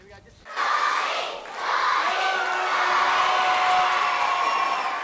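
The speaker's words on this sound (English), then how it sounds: "The champion snowboarder was showered in applause this morning" A school crowd cheers and shouts for champion snowboarder Scotty James, a loud, sustained roar of young voices that swells after a quiet start, dips briefly, then holds steady.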